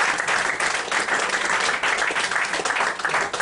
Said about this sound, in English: Give them all a round of applause to make their way towards the stage.